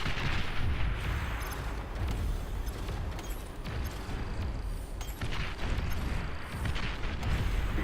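Mortar bots in a strategy video game firing a steady barrage, dense rumbling booms and blasts packed together without pause, loud and continuous across the whole stretch.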